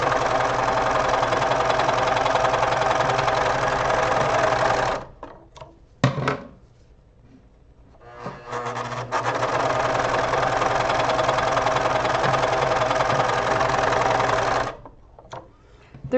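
A serger sewing machine runs in steady, fast bursts, stopping briefly twice before starting up again, close and fairly loud.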